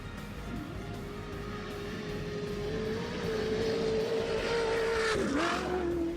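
A Class 1 Unlimited off-road race buggy drones steadily at high revs during the NORRA Mexican 1000 rally, holding a sustained buzzing tone that swells slightly louder midway, then dips briefly as if shifting before roaring on.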